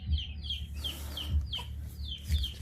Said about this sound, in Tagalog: poultry ng manok